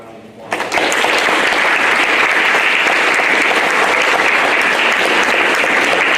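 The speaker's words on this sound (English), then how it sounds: "let's give this class one more final round of applause" A crowd breaks into sustained, dense applause at a 5th grade completion ceremony at Williamsburg Elementary School, starting abruptly after a brief quiet moment and continuing loudly throughout.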